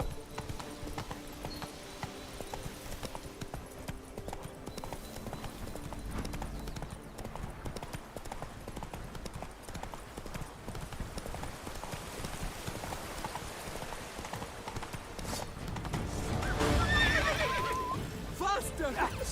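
Roach, a horse in The Witcher 3: Blood and Wine, gallops with a steady rhythmic clip-clop of hooves and gives a neigh near the end, heard alone and fairly faint.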